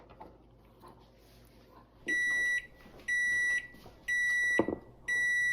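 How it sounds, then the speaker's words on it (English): Microwave oven heating mochi, its steady hum running under four evenly spaced long electronic beeps that sound loud and close, with a brief clatter partway through. "I'm going to put it back in the microwave for another minute."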